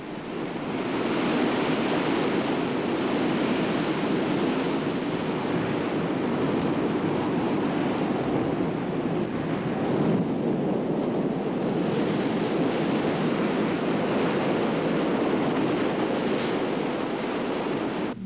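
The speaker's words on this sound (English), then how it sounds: "those waves are pumping in from down the storms in the South Pacific" Steady roar of ocean surf breaking on a beach, loud and continuous, with wind buffeting the microphone throughout.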